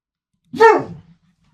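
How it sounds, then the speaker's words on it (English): A single short, close dog bark, loud and abrupt against silence. "No, Moon Girl, stop. No bark."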